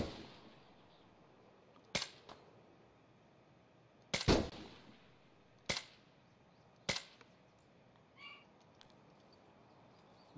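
Gunfire in an online video game, several sharp isolated shots spaced a second or two apart over a quiet background, fairly faint and distant-sounding, with no talking.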